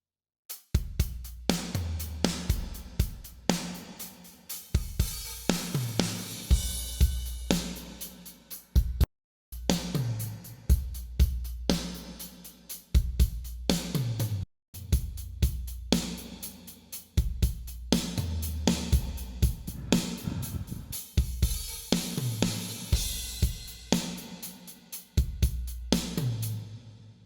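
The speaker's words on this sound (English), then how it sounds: "So let's have a listen with some drums." Full drum kit mix played back dry through the Waves NX Ocean Way Nashville plugin bypassed, steady loud hits of kick, snare and cymbals in a driving rhythm, two brief dropouts breaking the pattern, no talking.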